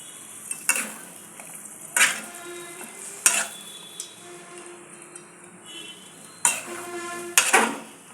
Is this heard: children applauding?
no